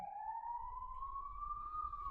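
An ambulance or fire engine siren passes in the distance, one steady rising wail that holds over low street rumble, faint and continuous throughout.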